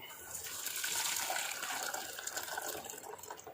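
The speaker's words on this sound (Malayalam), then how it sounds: "ഒന്ന് അരിച്ചെടുക്കാം നമുക്ക്." Fresh grape juice being strained, a continuous splashing, gushing pour of liquid through a strainer, close and fairly soft, swelling in the first second and then holding steady with slight fluctuations.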